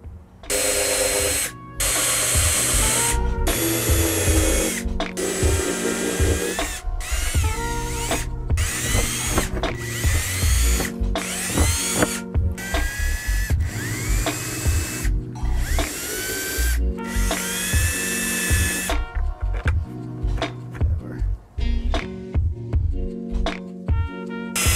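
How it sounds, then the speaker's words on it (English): A power drill fitted with a countersink bit cuts countersinks for screw heads during a car audio installation. The drill whines loudly and close in repeated short bursts with brief pauses between them, and the sound runs steadily for the whole stretch. "Using a countersink bit, we'll drill a countersink to nicely recess our screws."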